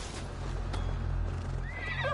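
A horse neighs in the video game Assassin's Creed Valhalla during a night raid: one loud, close whinny that rises and trails off over a steady low ambient rumble, with hoof clip-clops nearby.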